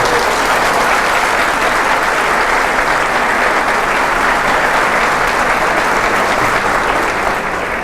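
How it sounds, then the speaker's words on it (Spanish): A church congregation bursts into loud, dense applause, a sustained uniform roar of many hands clapping that holds steady for about eight seconds without voices. "para quien pide un aplauso."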